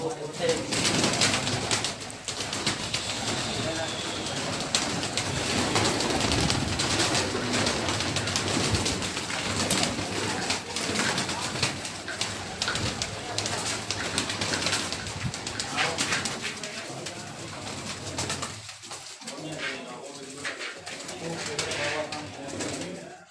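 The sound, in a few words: flock of domestic pigeons cooing and flying from a rooftop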